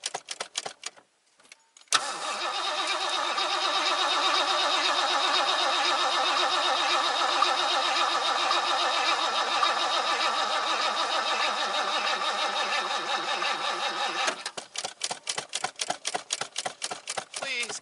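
A 1984 Mercury Marquis engine cranks without starting in a long, rapid, rhythmic churning run of about twelve seconds, framed by short bursts of clicking and stuttering cranking before and after.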